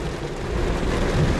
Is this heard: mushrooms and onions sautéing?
no